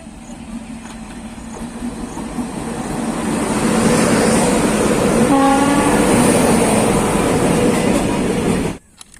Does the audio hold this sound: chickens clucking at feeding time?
no